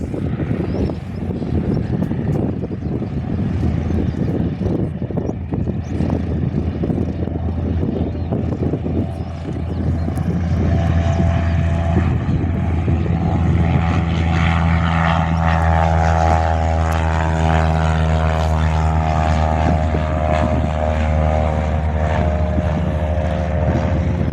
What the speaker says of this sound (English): Singapore College Cessna C172 departs Jandakot.